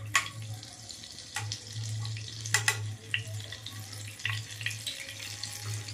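Butter goes into a pan of hot leftover oil while cooking paneer butter masala, giving a steady sizzle and watery hiss with a low continuous hum and occasional sharper crackles, heard close and without talk.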